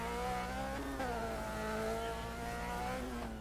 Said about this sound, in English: sometimes it's nice to just be able to hear the engine, hear if you're sliding